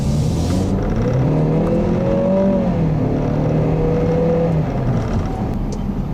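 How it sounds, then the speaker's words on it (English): A 2014 Ford Escape Titanium's 2-liter turbocharged four-cylinder engine accelerates, its pitch rising and falling through gear changes over a steady road roar, heard from inside the vehicle. "The 2-liter turbocharged 4-cylinder is quite a nice and impressive engine for this size of vehicle."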